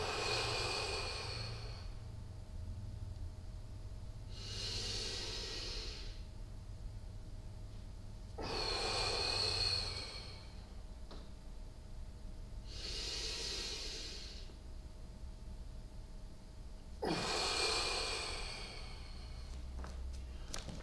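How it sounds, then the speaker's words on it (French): A budo cross-training class does a rhythmic breathing exercise. Slow, audible breaths come roughly every four seconds, with sharper exhales in between, close up and quiet. "Faites cette respiration encore 2 cycles."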